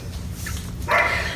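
Dogs bark in the background of a home, a short burst of barking that briefly rises over a low indoor hum.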